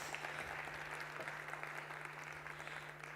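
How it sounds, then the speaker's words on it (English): Steady audience applause fills a conference hall at the opening of an event, a continuous wash of clapping that tapers slightly toward the end, with a low constant hum underneath. "Give a big applause at the very beginning of this event"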